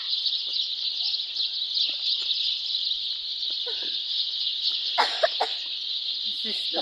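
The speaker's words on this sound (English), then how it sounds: "Look at the birds. So here, all the birds are here." Chickens cluck in a flock among other birds, a steady high chirping bed running throughout with scattered nearby clucks and calls growing busier toward the end, with a faint voice in the background.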